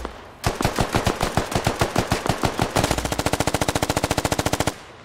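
Heavy automatic gunfire from a BTR armored vehicle mixed with infantry rifle shots in a military video game, loud and close, starting with irregular bursts and then settling into a steady rapid string of evenly spaced rounds before cutting off.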